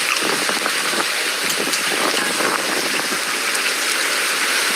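Steady rain falls in Belfast, a loud, close, continuous hiss of drops and runoff with no pauses, with no voices heard.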